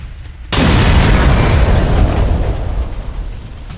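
Missile strike at an aircraft factory in Lutsk, Ukraine, during the Russia–Ukraine war: a sudden heavy blast bursts out of quieter background rumble, then holds as a sustained roaring boom that slowly fades.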